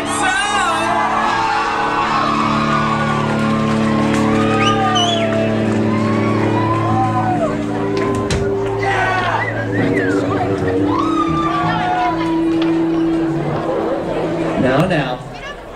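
A concert crowd at The Roxy in Phoenix, Arizona cheers for the Posies with whoops, shouts and loud chatter, a steady roar filling the room for the whole stretch.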